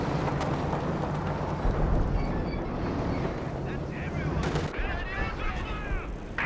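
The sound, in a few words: artillery barrage in Company of Heroes 2 video game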